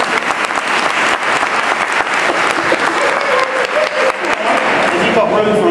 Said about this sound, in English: Ladies and gentlemen, can you give a round of applause to Margaret?